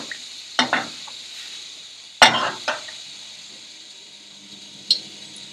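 Small gulab jamun dumplings fry in hot oil with a soft, steady sizzle, punctuated by a few faint clicks and taps from the pan, heard close by.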